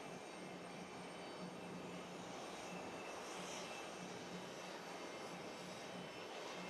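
A Finnair airliner arrives at JFK airport, its jet engines a steady, distant broadband roar that holds evenly throughout with no talk.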